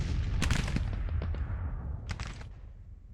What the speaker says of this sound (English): we've got Featherston's 10-pounders firing now